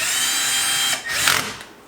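An impact gun tightens clutch bolts on a Yamaha YZ250 during a Hinson clutch install, a loud, close whirring burst that breaks off, then returns briefly with rattling before fading.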